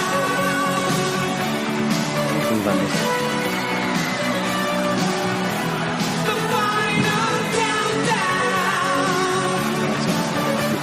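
A song plays as dense, steady full-band rock with synth and drums at constant loudness throughout, with no talking over it.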